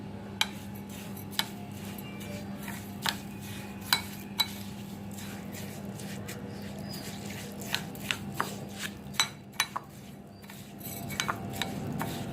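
A spoon clinks and scrapes against a metal pot while curd is stirred into a rice dish for upma kozhukkattai, giving a dozen or so sharp, irregular taps close by over a quiet background.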